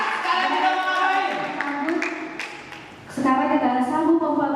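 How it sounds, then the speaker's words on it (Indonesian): Audience applause at a Sumpah Pemuda youth event held at Kodam Jayakarta, a bright wash of clapping under a host's voice, fading briefly before swelling again. "Kasih tepuk tangan dulu ya."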